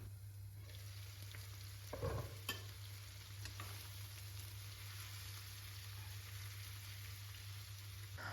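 Onions and chunks of meat fry in hot oil in a frying pan for homemade plov, a steady low sizzle with a couple of brief stirring clatters near the start, faint and close.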